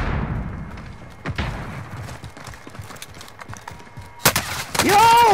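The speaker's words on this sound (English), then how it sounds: "I'm getting shot from two different directions." Gunfire in the Call of Duty Modern Warfare video game: scattered single shots and thuds echo at a distance amid a low background, ending in a dense burst of loud, close firing with ringing mechanical tones.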